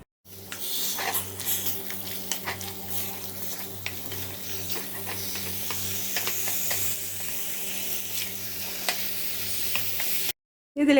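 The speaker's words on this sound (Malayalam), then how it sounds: "ഇതിലേക്ക് നമുക്ക് ചിക്കൻ ഇട്ട് കൊടുക്കാം. നന്നായിട്ട് മിക്സ് ചെയ്ത് കൊടുക്കുക." Chicken pieces for a pressure-cooker chicken curry are stirred in a pan, a steady sizzle of frying with repeated scraping strokes running for about ten seconds before a sudden cutoff; no talking.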